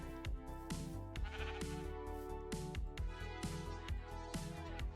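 Sheep bleating in the Minecraft modpack GregTech: New Horizons, several repeated bleats at a steady rhythm laid over continuous background game music, moderately loud and close.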